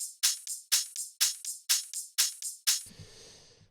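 A chopped-up sample loop cut into short, sharp bright bursts in a fast steady rhythm, about a dozen hits, then a softer tail with low rumble; close and alone with no talking.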